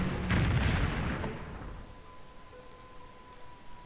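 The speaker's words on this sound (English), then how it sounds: "I guess we're bombing you" A single heavy bombing explosion in Civilization III, a loud deep boom that rolls and fades over about a second, followed by a faint steady tone.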